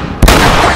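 A single sharp sniper rifle shot from The Last of Us Remastered, a loud sudden crack with a heavy low thump, followed by a sustained rumbling echo, with no voice over it.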